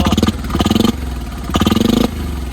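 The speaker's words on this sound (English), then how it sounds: "you can hear the turbo spool a little." Diesel utility vehicle engine with fuel turned up, revving hard in repeated bursts with a rough pulsing note, close and loud, settling to a lower idle-like rumble between revs; turbo whine faintly audible.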